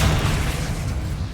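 A Confringo fire-blast spell going off in Hogwarts Legacy, a loud, dense, sustained booming roar with heavy low rumble and no voices.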